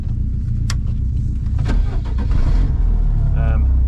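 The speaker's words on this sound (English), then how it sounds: "Let's get the car started" A Lancia Delta Integrale rally car engine cranks and fires up over a steady low rumble in the rain, with people talking nearby throughout.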